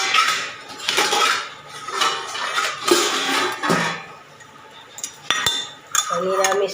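Dishes, cups and spoons clink and clatter while tea is brewed in a home kitchen, a busy run of close knocks and rattles with a few sharp ringing taps near the end.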